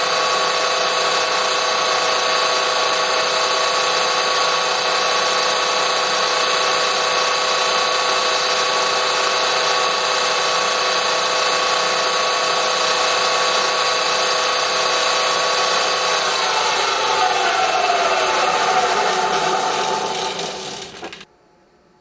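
A power tool drives a tapping head to thread holes, a loud steady whine with a constant pitch for about twenty seconds, shifting in tone near the end before cutting off abruptly.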